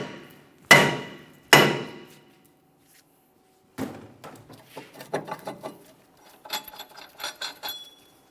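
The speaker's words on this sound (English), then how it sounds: "if it's stuck in place, you're going to tap on it with a hammer" Hammer strikes freeing a stuck rear brake rotor on a 2008-2017 Mitsubishi Lancer: two loud, ringing metallic blows, a pause, then a run of lighter, quicker taps close by.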